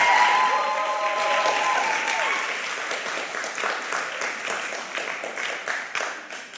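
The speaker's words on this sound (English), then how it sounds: "Little applause." Applause from an evening audience at Conway Hall, steady dense clapping that thins out toward the end, with faint voices mixed in.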